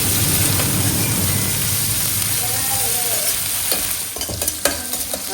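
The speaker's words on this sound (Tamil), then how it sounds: "எண்ணெயில போட்ட உடனே தெரிக்குது பயங்கரமா" Small shallots dropped into hot oil for crab rasam, spluttering and crackling loudly and continuously up close, with sharp popping bursts as the frying settles near the end.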